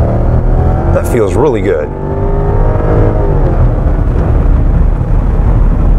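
A 2007 Lexus LS460 long-wheelbase sedan accelerating, its engine a steady smooth hum and rising drone heard from inside the car, with a person speaking briefly over it.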